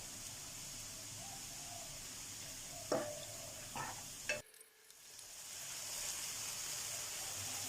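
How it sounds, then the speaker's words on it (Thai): Ground pork stir-fried with pounded chili and garlic in a pan, a quiet steady sizzle broken by a few sharp clinks and scrapes of a utensil, then a brief pause before the frying hiss returns. "อพอหอมแล้วก็เอาหมูบด ไปผัดให้สุก"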